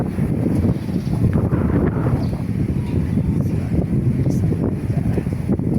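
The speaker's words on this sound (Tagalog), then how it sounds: "Sobrang lakas ng hangin." Strong wind roaring and buffeting the microphone in a continuous low rumble, loud and unbroken throughout.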